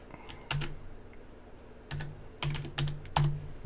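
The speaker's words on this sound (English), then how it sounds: "I'm going to search for Meego in the whole database." Keystrokes on a computer keyboard, a few scattered taps followed by a short burst of quicker clicks, close and fairly quiet with no talking.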